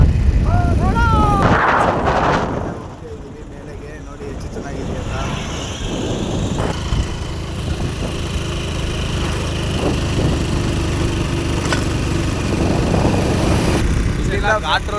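A motorcycle rides uphill on the road to Nandi Hills, its engine droning steadily and loudly close by with heavy wind buffeting throughout, and a voice talking briefly near the start.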